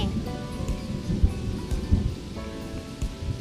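A cartoon sound effect of steady rain pattering continuously, with a few low rumbles of thunder rolling underneath at moderate loudness.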